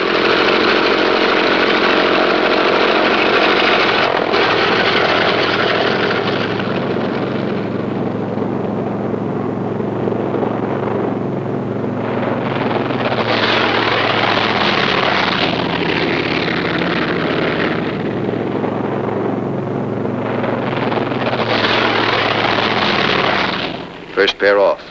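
WWII propeller warplanes, a B-17 and P-47s, taxi and take off with a loud, continuous piston-engine drone that swells and fades as the aircraft move past, and a voice talks over it.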